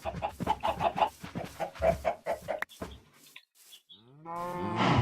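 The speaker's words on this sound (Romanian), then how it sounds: "A nebunit vaca." Cows moo repeatedly in a Minecraft world, a series of close, loud blocky lowing calls with short gaps, followed by a clucking chicken near the end.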